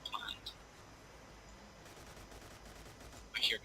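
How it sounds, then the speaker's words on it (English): Gunfire in the video game Arma 2 on the Namalsk map: faint, distant shots cracking in a few short clusters, with a sharper burst near the end over quiet ambient background. "I hear gunshots."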